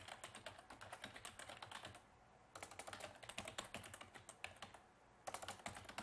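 Fast typing on a computer keyboard, dense bursts of crisp close key clicks broken by two brief pauses, with no voices over it.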